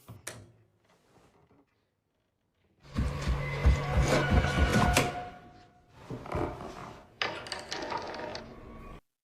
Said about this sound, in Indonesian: suara ketukan di dinding kamar terdengar yang membuat Peter terbangun